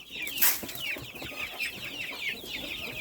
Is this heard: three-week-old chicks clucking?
yes